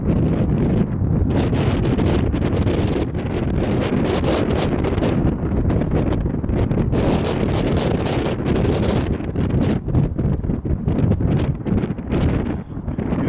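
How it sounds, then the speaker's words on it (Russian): Strong outdoor wind buffets the microphone beside a courtyard and artificial pond at a residential complex in Ryazan, a loud, continuous rumbling roar with gusty swells and no voices. "Ветер сильный, руки, честно говоря,"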